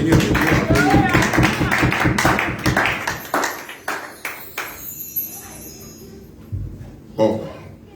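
A church congregation claps in praise of the Lord, a steady rhythmic burst of hand claps that thins into scattered single claps, with voices calling out over it.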